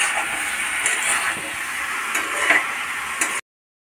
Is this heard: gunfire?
no